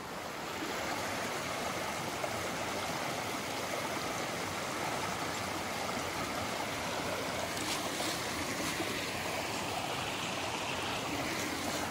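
A small waterfall pours over rocks into a pool beneath it on a wooded stream trail at Kelly's Run, Holtwood, Pennsylvania, making a steady, full rushing roar that stays even throughout with no voices.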